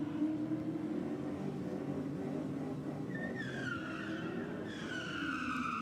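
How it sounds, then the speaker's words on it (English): A Ford Falcon drag car does a burnout at a drag racing event, its engine droning at a distance before rising squealing tones from the spinning tyres climb and waver near the end, all fairly faint and with no voices. "The Falcon sounding nice and strong in the burnout."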